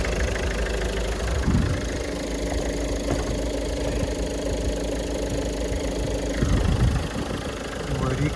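A Peugeot 5008 with a 1.5 diesel engine rated at 96 kW idles steadily with a low, even rumble and a faint knocking clatter, and a couple of brief bumps are heard partway through.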